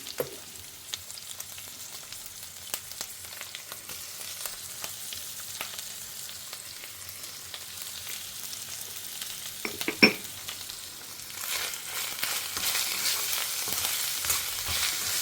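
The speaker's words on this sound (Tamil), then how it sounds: "இது காய் கொஞ்சம் நல்லா வதங்கட்டும்" Onions and vegetables for a vegetable stew sauté in a pan, a constant sizzle punctuated by light utensil taps and stirring, the hiss growing louder toward the end.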